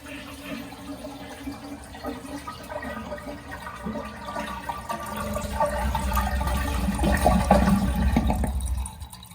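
Water draining out of a toilet tank through a lifted flapper, a steady gurgling rush that swells louder and deeper toward the end before cutting off.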